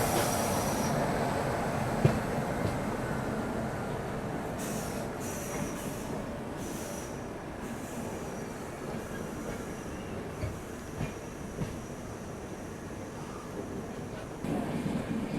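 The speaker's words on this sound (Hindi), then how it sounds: "एक और लेजेंडरी ट्रेन कर्नाटका एक्सप्रेस" Karnataka Express passenger train running past on an Indian railway line, a steady rumble of wagons and wheels on track with faint rail clatter and brief squeals, continuous throughout.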